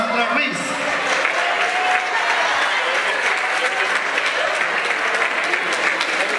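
An audience at a parents' school certificate ceremony applauds steadily for several seconds, a loud, even wash of many hands clapping with voices mixed in.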